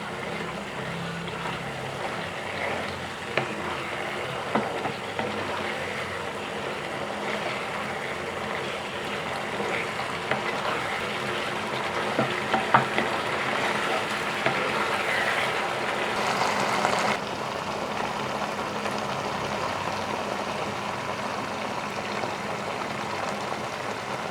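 Chicken liver fries in a pan with garam masala and coriander leaves while being stirred, giving a steady, unbroken sizzling hiss throughout.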